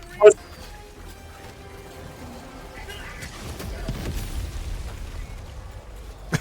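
A sharp, loud exploding-barrel blast in Helldivers 2 bursts at the start, followed by rumbling game sounds and murmuring voices, with another small pop at the end.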